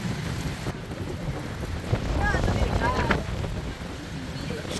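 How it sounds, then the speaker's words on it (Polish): Heavy rain pours down in Berlin near the Victory Column in a steady, dense hiss, with a low rumbling undertone and faint squeaks in the middle. "Szkoda, że to zwykła ulewa, nie burza."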